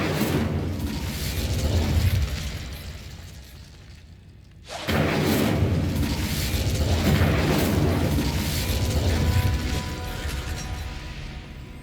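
Incendio fire spell cast in Hogwarts Legacy: a loud, dense roaring whoosh of flame that fades, cuts out briefly, then bursts back in with a heavy boom and keeps blazing steadily.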